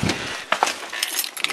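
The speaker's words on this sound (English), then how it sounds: "I found my keys here." A bunch of keys jangles in a short burst of light metallic clinks and rattles, close by, with a few separate chinks.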